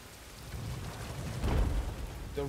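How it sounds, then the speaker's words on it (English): Rain falls in Star Wars Jedi: Fallen Order, a steady hiss with a low rumble swelling midway, like distant thunder, and a brief tonal sound from the game at the end. "the rain is blocking it, okay, I understand, the rain is blocking what I need to do"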